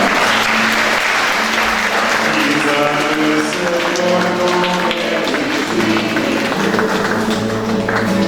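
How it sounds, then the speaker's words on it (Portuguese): A church congregation at a Sunday Mass in Grândola claps after a baptism, steady dense applause filling the room, with singing voices and an organ-like tone rising underneath. "vamos dar-lhes uma salva de palmas"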